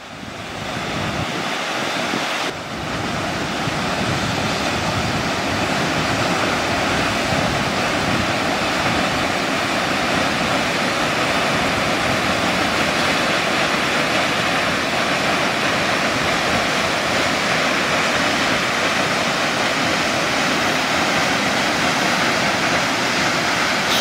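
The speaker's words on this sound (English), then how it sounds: "So the water falls into that pool right there, and then there's another waterfall right there, and it drops again" A waterfall pours into a pool with a steady, close, roaring rush of water that stays continuous and loud, with only a brief dip near the start and no voices.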